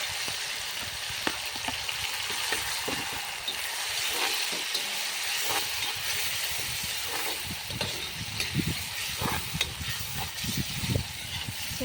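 Tomatoes with garlic and ginger sautéing in oil in a pan for dhaba-style chicken masala, a continuous loud close sizzle with scattered crackles and the occasional scrape of stirring.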